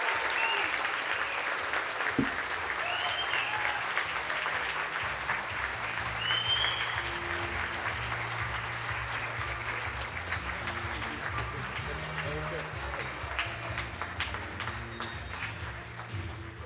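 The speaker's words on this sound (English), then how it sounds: "Please join me in giving a great round of applause" Sustained audience applause at an inaugural citizen-of-the-year award ceremony in Philadelphia, a dense, even wash of many hands clapping that carries on steadily for a long stretch, with faint voices underneath.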